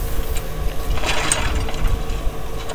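A Genkins 4500 gas generator's small engine being pull-started, a loud rattling, whirring ratchet pull from the recoil starter that cranks briefly without catching, close up with no talking.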